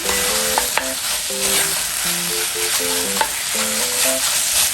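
Doenjang and gochujang paste are stir-fried together in a pot for doenjang jjigae, making a loud, steady hiss of sizzling with a few stirring clicks, all under continuous background music and no speech.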